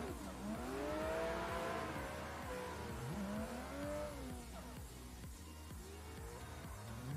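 BMW cars drifting in the Assetto Corsa racing game, their engines revving with rising and falling pitch over tire squeal, loud and continuous with no voices.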